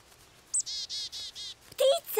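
A small bird chirps in an animated children's scene: a quick series of four or five short high tweets at a steady rhythm, fairly close, followed by a brief vocal sound.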